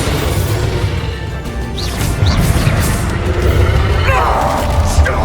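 Spell-blast explosion from the Bombarda charm in the Hogwarts Legacy video game, a loud crashing boom followed by crackling debris and a couple of sharper impacts, mixed with game effects throughout.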